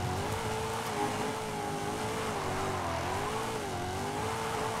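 A car engine revs hard under added throttle on a street run, a loud, steady, close roar that holds and wavers in pitch throughout with no talk.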